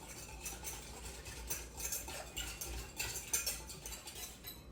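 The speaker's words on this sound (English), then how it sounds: "And again, we'll stir till it's all dissolved." A spoon stirs gelatin into a cup of hot water, with quiet repeated scraping and light clinks against the cup at a steady rhythm, close and soft with no talking.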